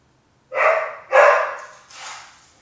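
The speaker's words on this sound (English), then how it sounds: "And there he goes barking." A dog barks sharply twice, close by, followed by a softer, trailing third bark.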